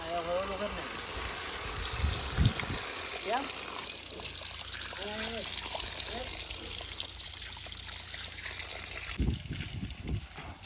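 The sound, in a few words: water pouring from JCB loader bucket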